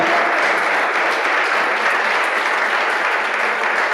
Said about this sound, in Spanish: Den un aplauso al Señor esta noche